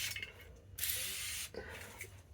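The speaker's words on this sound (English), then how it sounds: "I've got some Summit paint prep here in the Sure Shot" Two short hissing bursts from a spray bottle of paint prep cleaner, close by, the first longer and stronger, the second fainter, with quiet pauses around them.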